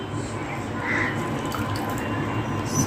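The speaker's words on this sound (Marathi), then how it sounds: "छान अशी 2-3 पाण्यामध्ये आपण चांगली धुवून घेऊया" Dried shrimp being rinsed in water in a bowl, a continuous close sloshing and trickling wash with faint drips, steady throughout with no clear talk.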